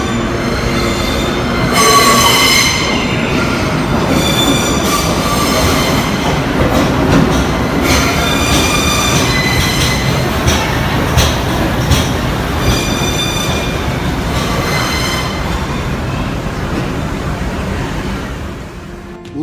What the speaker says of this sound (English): the thunderous roar emitted by the US subway when it arrives at the station is like an airplane taking off